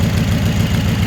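A Chevrolet S10 with a freshly installed Holley EFI Sniper idles steadily close to the microphone, a continuous low rumble with an even pulse and a faint ticking that may come from a loose rocker or exhaust leak.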